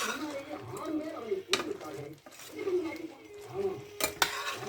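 Stirring shrimp curry in a pan with soft scraping and occasional metallic clinks, a low sizzle underneath, and brief voices in the background.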